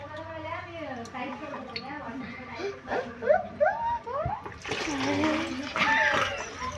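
Water from a bottle poured into a measuring container, splashing and gurgling under children's voices and an adult's talk, rising to a louder rushing pour toward the end.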